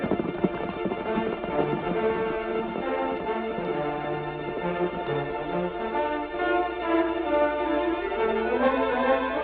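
Horses gallop with a rapid, rhythmic clip-clop of hooves, steady and fairly loud beneath dramatic music in an old Western radio-style scene.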